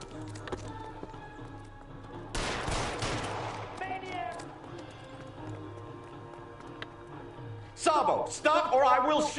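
Gunfire in the detective video game L.A. Noire, a sudden loud burst of shots crashing out partway through and another short flurry near the end, with background game sounds and voices between them.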